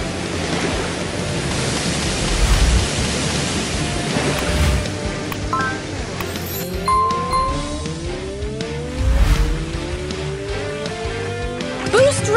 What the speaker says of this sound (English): Tap quickly to rev your engine.